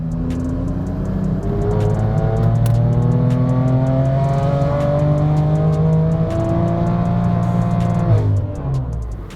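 BMW M3 F80 engine revving hard on a dyno in a sustained loud pull, a rising, harmonically rich drone that climbs steadily in pitch for several seconds before easing off, close and alone.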